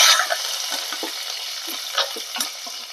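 Two green chilies fry in hot coconut oil for an egg curry, a bright, even sizzle with soft stirring taps scattered through it, close and loud.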